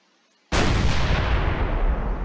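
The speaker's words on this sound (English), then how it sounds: "just your average cannon" A single loud, booming cannon shot from a World War II eastern front game mod, starting after a brief silence and followed by a long rumbling decay.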